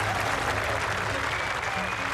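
At the Open golf championship, a gallery erupts in dense, continuous applause and cheering, loud and sustained with voices mixed through it.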